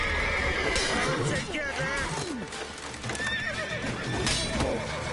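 A horse in The Witcher 3 game whinnies loudly several times over clip-clopping hooves and a busy game soundscape, with someone talking over the action.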